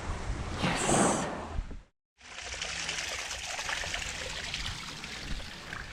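A small creek trickles beside a campsite in Abel Tasman National Park, a steady close wash of running water that drops out for a brief moment and then resumes.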